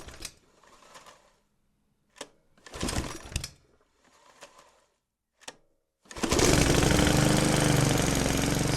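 A lawn mower engine sputters through several short failed bursts separated by silences, then finally catches and roars into a loud, continuous run nearby.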